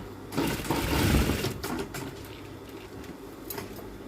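A sewing machine stitching a shirt cuff during a sleeve alteration, running in a steady rapid whir for about a second and a half, then falling to lighter intermittent stitching.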